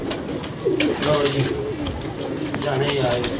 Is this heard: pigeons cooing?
yes